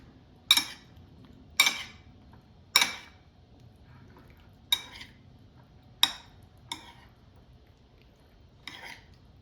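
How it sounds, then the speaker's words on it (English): Olives and feta cheese being stirred together with Italian dressing: seven separate clinks and scrapes of a utensil against a bowl, spaced a second or so apart, close and otherwise quiet. "And mix everything together."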